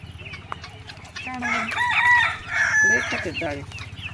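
Desi village chickens in a pomegranate orchard cluck and crow close by, a rooster's crow rising over steady clucking, with a voice briefly audible.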